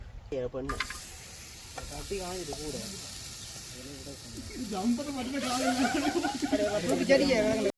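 Food fries and is stirred in a new clay pot during a home meal. Soft sizzling and scraping build up under ongoing talk and grow louder toward the end.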